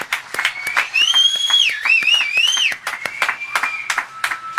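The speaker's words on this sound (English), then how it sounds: "Everyone give a round of applause to the speakers that we had today." Applause for the day's speakers at a men's one-day special event, a crowd clapping steadily with sharp individual claps, while a whistle-like tonal sound and faint voices run over it.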